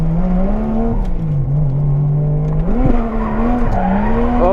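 A Toyota JZX90 drifts on entry, its tires squealing in a sustained wavering howl over a loud, continuous engine roar up close.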